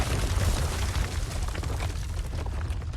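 A cannon fires on enemies in the video game Resident Evil 4 Remake, a loud, sustained booming blast with heavy low rumble and debris noise lasting the full three seconds, no talk over it.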